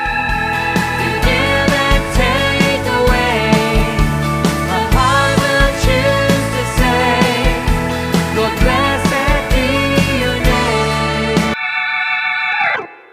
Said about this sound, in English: So playing organ is about one of the easiest things you can do.